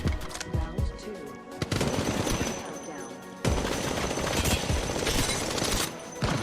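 Rapid bursts of Apex Legends Mobile gunfire crackle almost nonstop, dense and loud, with a brief lull before the shooting resumes.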